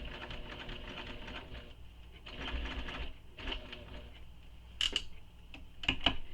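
A sewing machine stitches a bowler bag in steady mechanical bursts with brief pauses, ending in a few sharp clicks near the end.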